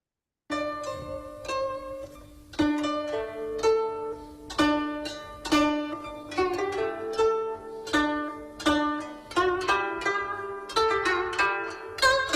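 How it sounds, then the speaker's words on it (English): A syncopated, bouncy beat of short plucked melodic notes, accents falling off the main pulse, played alone at moderate volume. "this kind of beat with the syncopations on the offbeat is called whipped beat"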